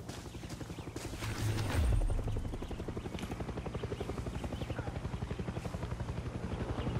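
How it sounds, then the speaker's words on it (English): A helicopter passes overhead in the video game Far Cry 6, its rotor beating in a steady rhythmic chop that swells briefly, then settles into an even, pulsing drone. "Like that helicopter right overhead."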